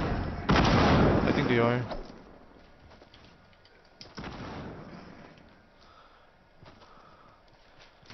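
Gunfire in Fortnite Battle Royale, a loud burst of shots near the start followed by a second volley a few seconds later, with a player's voice talking briefly over the game sounds.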